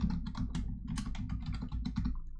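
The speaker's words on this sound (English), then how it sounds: "then we need to type our password" Close-up typing on a computer keyboard, a fast irregular run of crisp key clicks entering a password, continuous for a couple of seconds with no voices.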